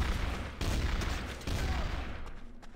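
A burst of gunfire in the first-person shooter game Trouble in Terrorist Town: a rapid fusillade of loud, close shots with booming impacts, dense at first and thinning out toward the end.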